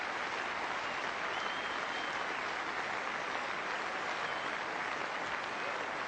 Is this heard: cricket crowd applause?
yes